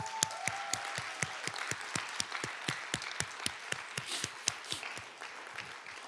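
A church congregation at a Sunday worship service claps in a steady, rhythmic beat, even and moderately distant, with faint cheering mixed in and no talk over it.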